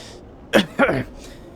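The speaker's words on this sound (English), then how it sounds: "his head and coughs into his hand." An old man coughs twice into his hand in the Planescape Torment video game, two short raspy bursts close up, followed by quiet.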